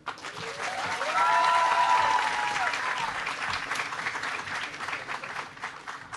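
An audience breaks into loud, sustained applause with whoops and cheers as Secretary of State John Kerry is welcomed to speak about climate change, the clapping swelling then slowly tapering.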